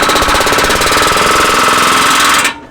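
Hydraulic rock breaker pounding in rapid, even blows at close range, a loud metallic chatter that holds steady and then stops abruptly near the end.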